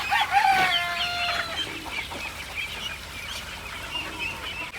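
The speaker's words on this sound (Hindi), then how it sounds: "मुर्गे भी इकट्ठे हो गए" Roosters and hens on a fish farm with ducklings, one rooster crowing loudly up close at the start, then steady clucking and fowl chatter carrying on through the rest.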